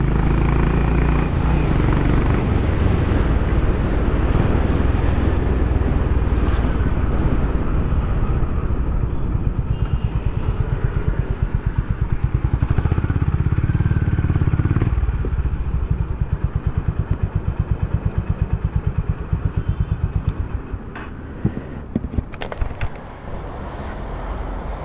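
A Honda H'ness motorcycle with a single exhaust rumbles loud and steady while riding, its engine droning throughout and easing off toward the end.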